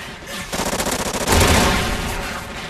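Rapid video game gunfire crackles in quick bursts, a fast rhythmic volley giving way to a louder, denser stretch of shots with boomy low end, close and prominent with no talk over it.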